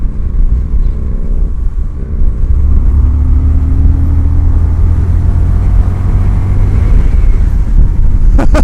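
A 2020 Indian FTR1200 motorcycle accelerates hard through its gears. The engine drones low and loud, its pitch climbing steadily under heavy wind rush, with a short dip near the start at a gear change.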